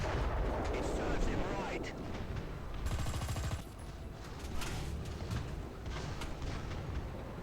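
Tank cannon fire in War Thunder from a Hetzer tank destroyer, a loud, heavy blast with rumbling battle noise and rattling mechanical sounds around it, mixed with game effects at close range and talk in the background.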